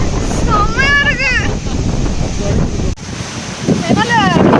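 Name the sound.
rushing water at Agayagangai Falls waterfall, Kolli Hills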